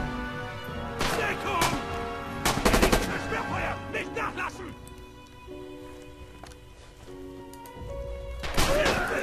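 Gunfire in Red Orchestra 2: Heroes of Stalingrad, with loud bursts of rifle and machine-gun fire and thuds at irregular intervals, close and heavy, mixed with someone talking.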